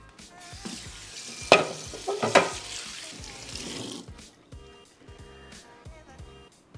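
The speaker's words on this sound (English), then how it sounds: "Let's rinse it off." Water runs and splashes over a pan scrubbed with Bar Keeper's Friend, with clattering handling noises and someone speaking between the splashes.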